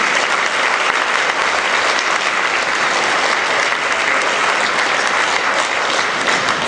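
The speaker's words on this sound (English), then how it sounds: "We should give another round of applause." Loud, dense, continuous applause from a large audience at an awards event, steady and unbroken throughout with no voices rising above it.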